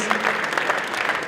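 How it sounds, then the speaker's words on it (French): Brief burst of strong audience applause at a French regional sports-of-the-year awards ceremony, dense clapping from a sizeable crowd filling the room without any talking. "On applaudit très fort Louis-Nicolas, Roland Courbis"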